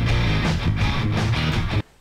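Music processed through the Airwindows Dubly2 plugin with no added highs, a dense, full-band mix with steady loudness and soft rhythmic swells, ending abruptly near the end.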